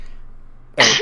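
A single sharp, breathy sneeze bursts out close by at the end after near silence, loud and abrupt.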